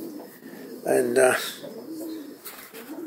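Racing pigeons cooing in a loft, a short burst of low throaty coos close by, with someone speaking briefly around them.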